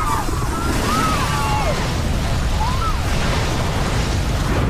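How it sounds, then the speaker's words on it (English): Cabin gases igniting in an aircraft fire flashover produce a loud, sustained roaring blast with deep rumble and crackle, steady in intensity, overlaid by faint whistling tones that glide up and down. "The gases ignited with the force of an explosion."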